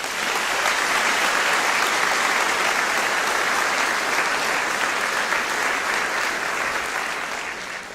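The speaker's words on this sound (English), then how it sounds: "Please give her a round of applause." A senior awards audience applauds a student honoree, with dense, steady clapping from a large crowd filling the whole stretch and tapering slightly at the end.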